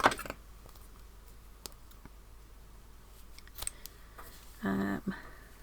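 Scissors snip through fabric scraps for boho tassels, giving a few sharp close cuts spread across a quiet room, with a longer crunchy cut near the end and no talking.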